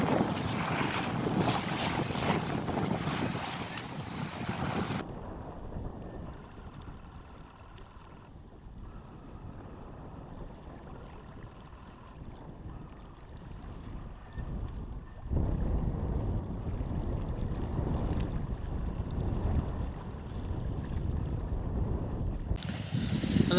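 A UK Border Force vessel passes close by a sailboat at night in the deep-water channel between Goodwin Sands and Kent, its engine rumble and wash swelling over wind and water noise, fading mid-pass then building loud again.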